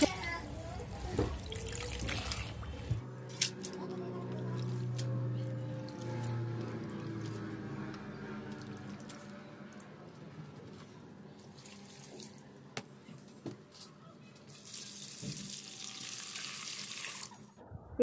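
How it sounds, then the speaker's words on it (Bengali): Red amaranth greens rinsed under a running kitchen tap, a steady close stream of water splashing over the leaves with soft dripping and squishing as they are handled, continuous throughout. "এখানে শাকগুলো আমি ভালো করে ধুয়ে পরিষ্কার করে নিচ্ছি।"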